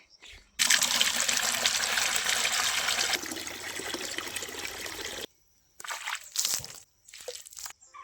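Water is poured over two wooden pieces to wash them outdoors, a loud continuous splashing gush for several seconds that softens, stops, then returns in shorter bursts of trickling and sloshing.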